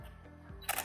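A single camera shutter fires at 1/125th of a second, a brief sharp mechanical click-clack near the end, close and crisp after a quiet moment.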